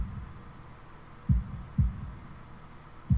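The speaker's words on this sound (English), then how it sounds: "holding my breath in an attempt to hear my heartbeat" A heartbeat sound effect from the visual novel Katawa Shoujo: a few deep, low thumps spaced irregularly over a soft background hum, with no speech.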